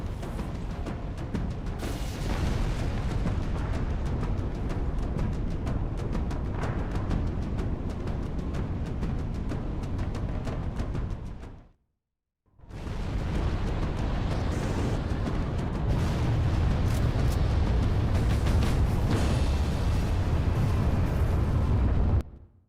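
Heavy MAC cannon blasts pounding enemy bases in Halo 3, a dense, continuous roar of explosions and rumbling booms, broken by a brief silent gap about halfway through before the barrage resumes at full loudness.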